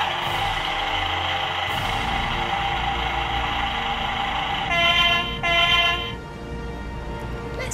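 A Paw Patrol London double-decker toy bus plays electronic horn toots and vehicle sounds, a steady bright tone with a brief louder burst of honks near the end.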